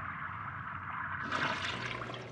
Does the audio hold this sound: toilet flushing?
yes